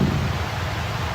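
Rain-like hiss plays from video audio, a steady broadband wash of noise with a low rumbling underlayer, fairly loud and continuous for the whole short stretch.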